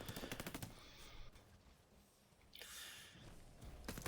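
Rapid bursts of automatic gunfire from a Titanfall 2 capture-the-flag match, with dense rattling volleys at the start and end separated by a quieter stretch of distant shots.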